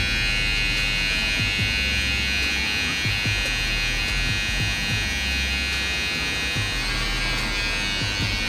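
An electric hair clipper buzzes steadily and close throughout while its tip trims stray hairs at the nape, a continuous motor drone with faint scraping against the neck.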